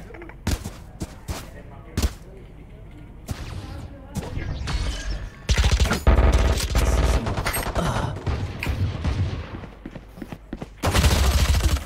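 Valorant gunfire cracks in bursts, single sharp shots early giving way to heavier rapid volleys from the middle onward, loud and close, with a player talking between the shots.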